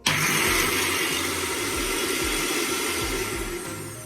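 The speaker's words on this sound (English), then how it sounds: "Just going to blend them for about 2 minutes." A blender whirs loudly as it purees jerk seasoning, starting abruptly at full speed and running as a steady motor drone with slight wavering pitch, easing off a little toward the end, with no talking.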